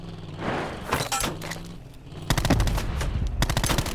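Rapid bursts of automatic gunfire crackle in short volleys, some distant and some close, over a busy rumbling background in a Call of Duty Blackout match.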